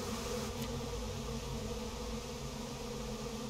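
Bees buzz loudly and steadily in the video game Psychonauts 2, a dense, continuous droning swarm that fills the whole moment without any voices.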